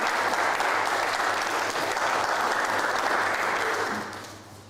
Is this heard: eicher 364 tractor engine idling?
no